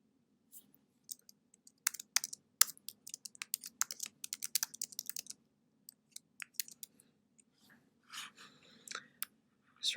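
Fingers tap a computer keyboard in short irregular bursts of close, crisp clicks while text is typed into a 3D design program. Small gaps separate the bursts.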